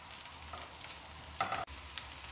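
Small onions and chopped garlic sizzle quietly in a pan for a Kerala bitter gourd curry, a soft steady frying hiss with a brief clatter of stirring midway.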